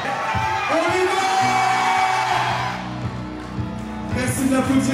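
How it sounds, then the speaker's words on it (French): Crowd at the first Red Bull Showdown strongman event cheers and whoops loudly, with shouts over a dense roar that drops off midway, then swells again with some talk. "Merci d'applaudir bien fort, cher public, de cette première édition de Red Bull Showdown."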